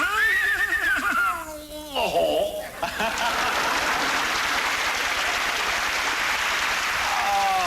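A voice imitates an English horse whinny on the 1980 TV show That's My Line, a warbling, falling neigh about three seconds long. Loud studio audience applause follows it and carries on to the end.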